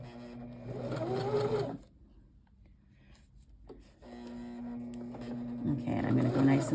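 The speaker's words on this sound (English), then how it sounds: "And now I'm going to back stitch a little" A sewing machine stitches across the bottom of a zippered fabric pouch, making a steady mechanical whir in two runs separated by a short quiet pause for a backstitch, with a person talking over it.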